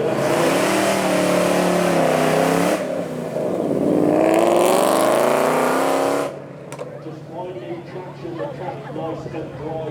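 Ford Mustangs revving and pulling away at Beaulieu Supercar Weekend, a loud sustained engine roar with rising and falling pitch that drops to a quieter rumble near the end, with crowd chatter and a voice talking over it.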